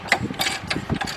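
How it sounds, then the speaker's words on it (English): A GearWrench half-inch drive ratchet clicks quickly in short bursts while turning a 33mm deep socket on the 3.6 engine of a 2005 Cadillac CTS, close and clear with no talk. "You see that gear wrench tool work?"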